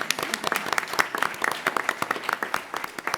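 Audience applause for an actor at a cast interview, with sharp, distinct claps from a modest crowd spread unevenly across a few seconds, moderately loud.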